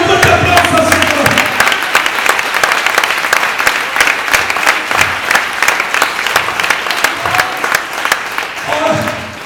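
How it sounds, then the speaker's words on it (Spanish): A church congregation at a Sunday service claps loudly and steadily for several seconds, a dense wash of hands with some cheering and voices mixed in, tapering slightly at the end. "Den un fuerte aplauso al Señor"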